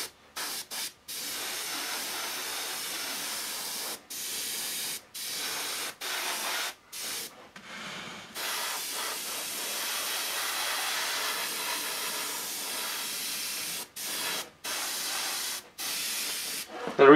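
An airbrush sprays yellow paint onto blonde hair, giving a steady soft hiss in short and long bursts separated by brief pauses, close and fairly quiet.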